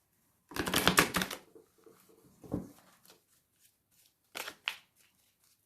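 A deck of tarot cards being shuffled and cut by hand, two quick riffling bursts up front, then softer taps and a short pair of flicks near the end, close and fairly quiet with no talking.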